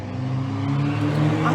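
Steady low traffic rumble from cars driving along a busy street beside a rain garden planting site in Woodinville, a continuous engine drone with a faint voice underneath.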